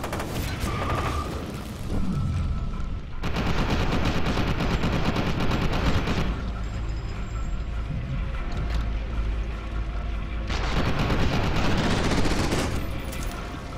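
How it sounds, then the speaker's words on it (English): Gunfire and a shock grenade blast in the shooter game FEAR 2: Project Origin, loud dense bursts of shots and booms running almost the whole time with brief shifts between volleys. "that was a shock grenade at first"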